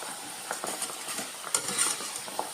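Steady oil sizzle of split chickpeas frying, with a scraping spoon stirring through the pan, occasional louder clinks and scrapes, close and fairly quiet, no talking.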